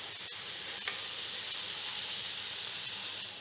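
Sliced red onions fry in a pan until brown and charred, giving a steady, close hiss and sizzle with a faint tick or two of movement, and no voices.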